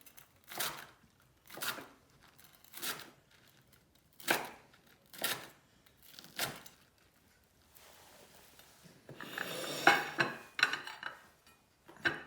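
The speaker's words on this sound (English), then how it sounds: "grab a sharp knife, take the really crusty bits off" A sharp knife scrapes crusty cooked-on bits off a plate in a kitchen, with about six evenly spaced rasping strokes followed by a denser, busier stretch of scratching near the end.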